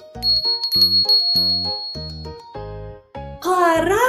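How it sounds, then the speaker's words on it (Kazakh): A yellow bell rings about seven times in a steady rhythm, each ring close and clear, before ending in a brighter, wavering jingle. "Бұл сары түсті қоңырау"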